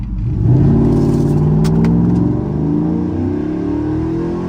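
A car engine revs hard under acceleration on a road drive, its rising drone climbing in pitch through the gears with a loud, close, sustained rumble and no talk.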